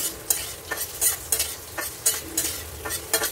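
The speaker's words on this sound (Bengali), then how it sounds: "তেলটা গরম হয়ে গেছে, আলুগুলো দিয়ে দিলাম। একটু আলুগুলোকে আবার ভাজতে হবে।" Potatoes frying in hot oil, a loud sizzle broken by about eight rhythmic scraping stirs of a spatula in the pan.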